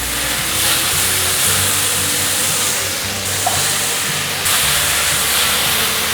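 Asparagus and mushrooms being stir-fried in a pan make a steady, loud hiss and sizzle throughout, with a brief dip partway through before the frying noise comes back just as strong.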